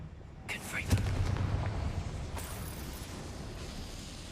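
A Confringo blast spell goes off in a wizarding video game, a broad low boom near one second rumbling through a busy, noisy game soundscape, with a brief sharp burst later.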